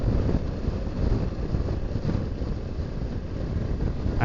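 Wind buffets a microphone on a motorcycle road trip through the Scottish islands, making a continuous, heavy roaring rumble with gusty swells and no voices.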